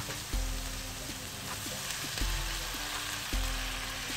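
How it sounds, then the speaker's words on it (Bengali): Spice paste sizzles and fries in a pan while being stirred for a chicken-stuffed pointed gourd dolma; a constant crackling hiss is broken by about four regular scraping stir strokes. "এরপর আর একটু নেড়ে নিচ্ছি। মশলাটা একদম ভাজা ভাজা হয়ে গেছে"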